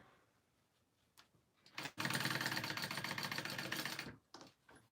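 A sewing machine runs steadily for about two seconds while top stitching, loud and close, with brief starts and stops before and after the run.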